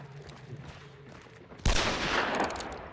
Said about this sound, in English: I'm just shooting zombies.